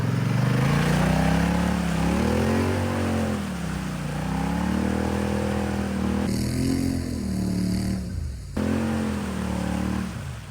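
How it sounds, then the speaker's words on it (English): A quad ATV engine strains and revs steadily while trying to tow a car sunk in a river, a loud close drone rising and falling in pitch throughout, with a brief higher whine partway through. "Recovery take 2, this time with the ATV."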